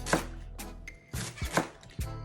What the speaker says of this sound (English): so that you can continue cutting your vegetable